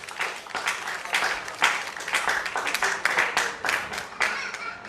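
An audience at a Nigerian medical association award dinner claps in a dense, rhythmic burst of applause that holds steady at close range for several seconds.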